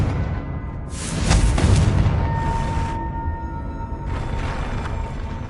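A Confringo fire spell bursts in Hogwarts Legacy as a heavy booming blast with a rushing crackle, followed about three seconds later by a second, softer burst.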